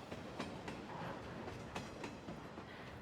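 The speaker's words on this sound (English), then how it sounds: "my ears are filled with the sound of the arriving train" Train arriving, a fairly faint, steady rumble of rolling railcars with occasional wheel clicks and rattles continuing throughout without talk.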